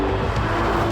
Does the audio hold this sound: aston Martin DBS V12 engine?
yes